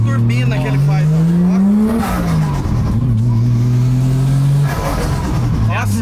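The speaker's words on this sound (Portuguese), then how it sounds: "Eu acho muito lindo esse barulho de turbina que ele faz." Nissan Skyline R34 engine revving loudly up and down with a whistling turbo spool, close and continuous, while people talk over it.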